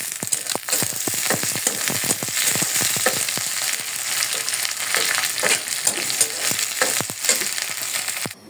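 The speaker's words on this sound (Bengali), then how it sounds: "রসুন পেঁয়াজ এগুলোকে এখন ভালোভাবে ভেজে নিব সাথে দিয়ে দিব কাঁচামরিচ" Garlic, onion and green chillies sizzling in hot oil in a wok, a loud continuous crackle with frequent popping spatters and stirring throughout.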